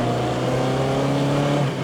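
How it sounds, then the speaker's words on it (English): A 1972 Triumph Spitfire Mk4 with its 1300 engine drives at a steady, loud drone from close by, a crisp engine tone holding roughly constant with no talk over it. "This later 1300 engine is a sweetie. It loves to rev, it's crisp, and it's torquey."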